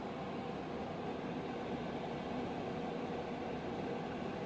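Quiet, steady whooshing airflow from an AC Infinity inline fan drawing air out of a grow tent, a soft even hum that stays level and continuous throughout, with no talking.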